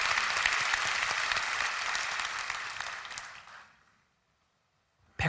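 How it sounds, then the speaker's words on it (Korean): A large congregation at a Christian prayer meeting breaks into full, steady applause that gradually fades to silence, and a brief sound returns just at the end. "하나님께 영광의 박수를 올려드리겠습니다."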